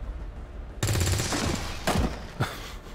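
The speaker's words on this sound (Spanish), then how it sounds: "Tengo que disparar al de enfrente." Rapid bursts of gunfire from a soldier shooting at an enemy in XCOM 2, a loud sustained volley followed by two shorter sharp bursts, with no talking.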